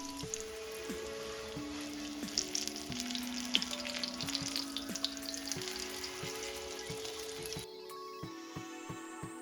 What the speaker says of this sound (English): We're going to fry these crab cakes on each side for about 2 to 3 minutes